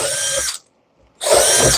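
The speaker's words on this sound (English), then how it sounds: "first I'll come back and hit it with the drill. This gets all the loose bits out of there." A power drill spins to clear loose bits out of a drilled hole: two loud, close whirring bursts separated by a brief silent pause.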